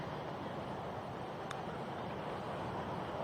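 Strong, steady gusting wind on a golf course roars as a broadband rush against the microphone, continuous and loud throughout with no other clear sounds.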